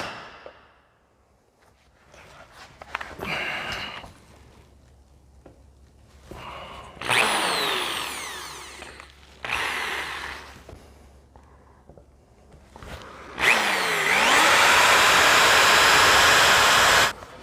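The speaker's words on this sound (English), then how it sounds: "I got a 3/4 inch bit here, and we'll just see if we can drill through that" A 3/4 inch bit bores into steel in repeated loud bursts, each grinding run starting and stopping, with a long sustained final drilling pass, close by and with no talk.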